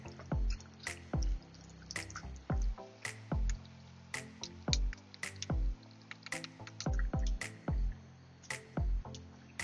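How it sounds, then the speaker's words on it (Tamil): Soaked rice tipped into the boiling water of a vegetable biryani pot and stirred, giving a steady run of wet squelching drips and splashes in an even rhythm, close and fairly quiet with no talking. "இப்போ நான் ஊற வச்ச ரைஸ் இதுல ஆட் பண்றேன். இப்போ இதை கொஞ்சம் மிக்ஸ் பண்ணி விட்டுருங்க."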